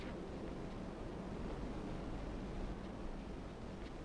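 Wind gusts through the video game Limbo in a quiet, steady, airy rush that holds evenly throughout with no other distinct sounds.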